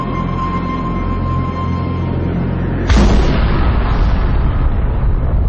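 A single loud explosion effect bursts in after a low sustained drone, followed by a rumbling, decaying roar, set against a documentary about the Sun.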